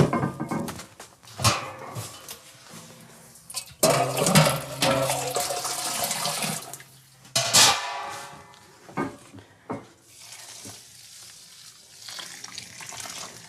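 Water poured onto grain in a mash tun while mashing in a four-fruit ale, irregular splashing and gushing bursts with clattering handling noises between them, close and varying in loudness, with no talk.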